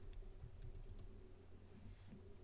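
Quiet, quick keystrokes on a computer keyboard, a short irregular run of light clicks heard close with a faint background hum.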